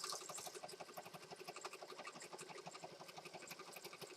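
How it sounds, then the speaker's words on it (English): Sewing machine stitching through a planner journal, a fast, regular mechanical chatter of needle strokes running continuously, quiet and close, with no talk. "now I'm just going to stitch across here"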